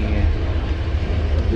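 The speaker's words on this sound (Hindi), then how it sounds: "ये ऑन द ग्राउंड ट्रेन है, अंडरग्राउंड नहीं है।" An old above-ground Tehran metro train runs along the track with a loud, steady low rumble and rattle, heard from on board.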